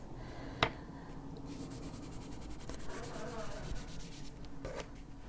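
Coloring pencil rubbing back and forth on paper in an adult coloring book, a soft, close scratchy stroking with a sharp tap near the start.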